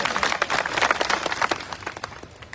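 A crowd at a farmers' rally in Junagadh bursts into dense, loud clapping that ripples steadily and then thins out toward the end.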